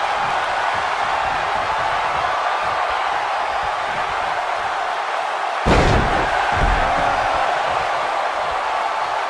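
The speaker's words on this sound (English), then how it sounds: "Listen to this crowd, King." A large wrestling arena crowd at a triple threat match roars in a steady, dense wash, with one sudden thud of a body slam partway through.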